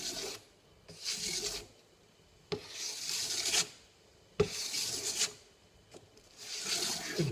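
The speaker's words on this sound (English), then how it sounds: "we'll just give this a couple of strops to refine that edge" A knife edge being stropped on leather to remove the burr after sharpening, heard as five or six distinct rasping back-and-forth strokes close up, each about a second long and separated by short gaps.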